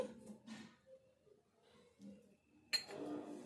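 A utensil clinks faintly against a bowl while moong lentil flour dough is mixed for ariselu, with soft scattered taps and one sharper clink near the end, quiet and close.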